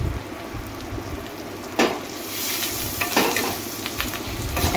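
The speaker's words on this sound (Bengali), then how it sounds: "হাফ চামচ আদা বাটা দিয়ে মশলাটা ভালো করে এবার কষিয়ে নেব।" Ginger spice paste stir-fries in a hot pan for an egg dish, with a loud continuous sizzle and scraping stirs, louder bursts each time the spatula turns the paste.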